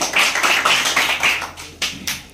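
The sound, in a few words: classroom clapping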